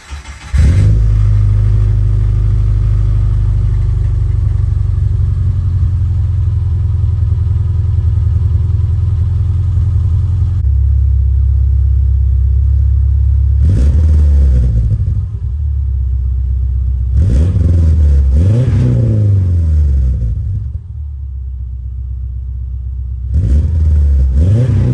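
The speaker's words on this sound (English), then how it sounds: "Let me start it up and show you guys what it sounds like." A car engine cold-starts for the first time that day, settling into a loud, steady rumbling idle before several sharp revs rise and fall in the second half, close up with no talking.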